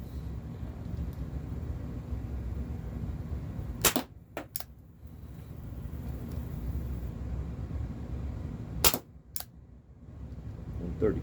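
Two sharp test shots from a Walther PPS airgun pistol, one around the midpoint and another later, each a crisp close snap with a quick follow-up click over a low background rumble.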